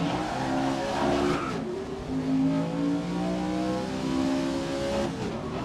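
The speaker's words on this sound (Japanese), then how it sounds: "ピックアップトラックでレースしてんだよ" Pickup trucks racing in GRID 2019, engines roaring loudly as they rev and shift through gears, with tires skidding and squealing through a corner, continuous and close.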